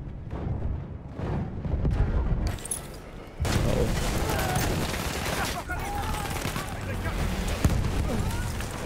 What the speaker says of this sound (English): Fucking mortars.